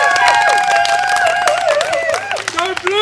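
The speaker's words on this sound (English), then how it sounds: "Please everyone, give all the teams a big round of applause." Crowd at a school sports day claps and cheers for the teams, loud and close, with excited children's shouts and voices mixed through the applause.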